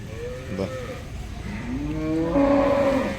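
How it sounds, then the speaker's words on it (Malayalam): Cattle lowing at a livestock market, one short call followed by a longer, rising moo that swells loud near the end, with the low murmur of the market behind it. "ബാക്കിയൊക്കെ പശുക്കളാണ്"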